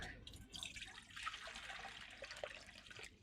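Water pouring into a bowl (gamla) in a home kitchen, a continuous splashing stream running for a few seconds, close and fairly soft.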